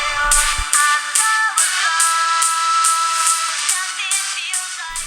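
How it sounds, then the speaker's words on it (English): Music played out loud through the small built-in speaker of a Garmin Venu 2 Plus smartwatch, a steady tinny melody with rhythmic bright accents running for the whole stretch at moderate loudness. "utilize the speaker on this smartwatch to actually play music out loud"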